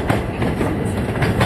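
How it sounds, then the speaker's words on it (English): An M78 subway train rolls past in the Bronx, a loud, close, continuous rumble with rhythmic clickety-clack of wheels over rail joints. "Another train's coming."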